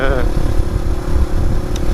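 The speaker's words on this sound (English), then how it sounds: "You should get an exhaust like this, Steve. Get a Dominator." A motorcycle fitted with a Dominator exhaust rumbles steadily at a low, throaty idle, close and fairly loud, with people talking over the engine.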